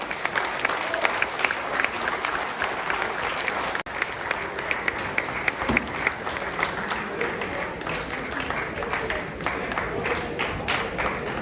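Sustained audience applause at an amateur golf prize presentation, a dense steady patter of many hands clapping throughout, fairly close and loud, with a faint murmur of voices underneath.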